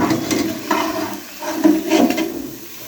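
Leftover roti samosas fry in hot oil in a pan, a loud, continuous sizzle and bubble with occasional scraping and stirring from a utensil.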